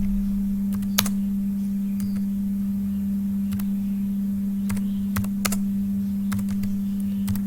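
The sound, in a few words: typing Urdu text on a computer keyboard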